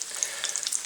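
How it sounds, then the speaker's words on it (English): Onions frying in a pan: a brief stretch of close, crackling sizzle with bright popping spits throughout and no speech. "our onions are getting a pretty good color on them"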